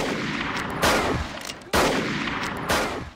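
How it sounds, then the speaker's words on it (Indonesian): Pistol shots in a film scene, three loud booming reports spaced roughly a second apart, each with a long reverberant tail over a noisy background. "Graf menembakkan pistolnya beberapa kali."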